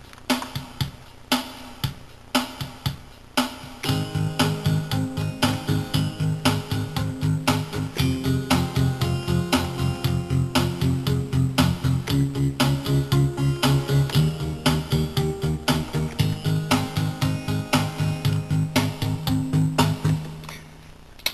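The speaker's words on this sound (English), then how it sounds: "And then you can turn on auto accompaniment and play a chord." Digital keyboard auto accompaniment in an 8-beat pop style: a steady electronic drum beat plays alone at first, then a sustained chord with bass joins and holds over the continuing rhythm, loud and close with no talking.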